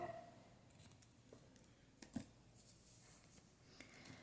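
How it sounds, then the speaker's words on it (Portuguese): Scissors snip through t-shirt yarn, a few faint crisp cuts and small handling rustles close by in a quiet room. "agora aqui eu vou cortar este meu fio"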